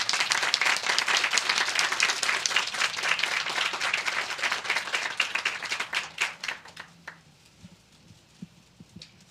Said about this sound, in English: for the graduates themselves, a big round of applause